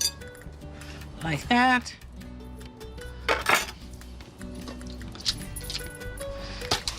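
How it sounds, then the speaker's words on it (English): New potatoes thrown into a salad bowl with green beans, giving a few soft clinks and bumps against the bowl, with a person talking over them. "Let's throw the potatoes right in there"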